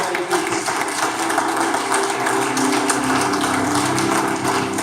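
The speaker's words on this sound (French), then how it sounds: "Est-ce qu'on peut donner une main à Dieu, une main d'acclamation à Dieu" Applause from a church congregation, a dense wash of clapping that holds steady and fills the room, with a voice and some background sound running underneath.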